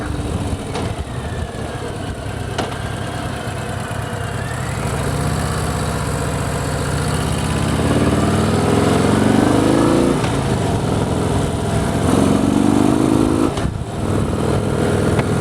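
A Harley-Davidson motorcycle engine idles with a deep steady rumble, then rises in a couple of revs near the end, loud and close with no talking.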